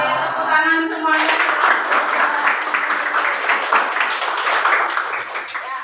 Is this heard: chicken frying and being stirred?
no